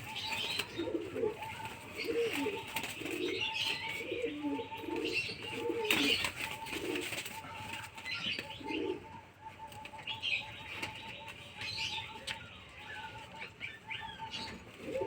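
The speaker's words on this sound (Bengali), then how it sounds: "দুটো পুরো সেম পায়রা একদম একদম একরকমই দেখতে" Pigeons coo softly and repeatedly, with bursts of wing flapping and a few chirps scattered throughout.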